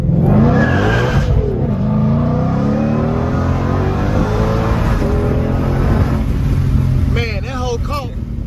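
A Cobra car accelerates hard with traction control switched off, its loud, close engine roaring steadily and rising in pitch for several seconds, with voices briefly heard near the end.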